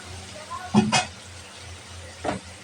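Fried koi fish drops into spice paste in hot oil, making a couple of short, close sizzling bursts followed by a quieter, fainter one.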